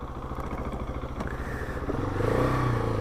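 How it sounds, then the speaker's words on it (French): A red GasGas SM700 motorcycle is ridden with its engine close and loud, a pulsing, throbbing beat that revs up and builds toward the end. "on va s'essayer cette KTM rouge"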